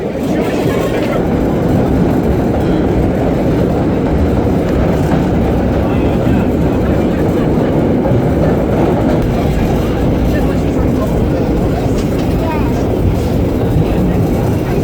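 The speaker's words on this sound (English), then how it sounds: "This is a holiday special train running on the Q" An antique New York City subway train, a holiday special on the Q line, runs loudly, its steady rumble and rattle of wheels and cars filling the whole stretch without a break.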